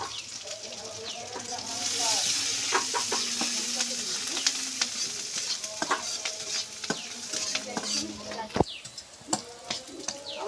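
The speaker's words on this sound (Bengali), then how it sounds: "আমার জাল পেঁয়াজটা লাল লাল করে ভাজা হয়ে গেছে।" Chopped onion, garlic and green chili frying in a pan with leaves, a steady sizzle with frequent clinks and scrapes of stirring, fairly close, while birds cluck in the background.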